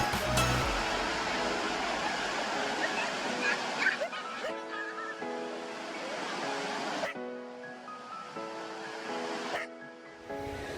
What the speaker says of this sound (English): Emily had a great time with Kaylee splashing in the waves as it was a really hot day.